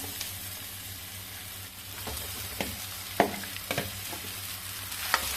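Mashed potatoes fry with onion and chili in a pan while a spoon stirs them. A steady low sizzle runs under occasional sharp scrapes and clacks of the spoon, close up, with no voices.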